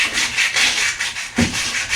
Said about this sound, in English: The noise you can hear is Natalie sanding by hand some of the metalwork down